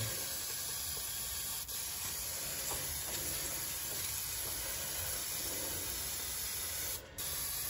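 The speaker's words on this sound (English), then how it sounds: "And I wash down with a little brake clean. To get rid of the dust." Brake cleaner sprays from an aerosol can onto a car brake disc, a loud continuous hiss held steady throughout with one brief break near the end.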